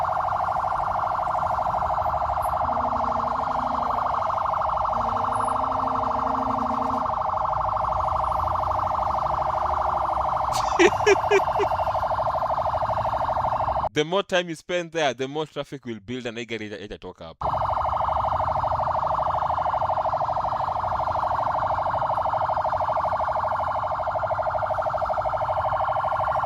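An ambulance siren sounds in busy Kenyan road traffic, a loud, steady tone that runs through the whole stretch with someone talking over it and a short break of rumbling noise partway through.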